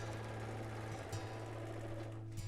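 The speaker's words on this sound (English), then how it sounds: "I'm stitching close to the ditch side of my seam here." Sewing machine stitching a quilt seam near the ditch line on a pillow top, a faint, steady mechanical hum with a fine rapid chatter that runs unbroken, with no talk.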